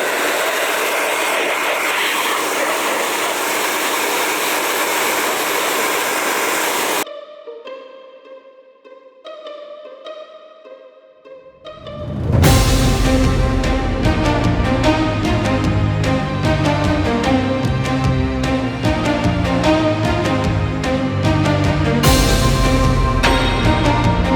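A heat gun blows on motorcycle graphics on a 2024 KTM 300 XCW, a loud broadband roaring hiss that drops out for a few seconds before returning strongly.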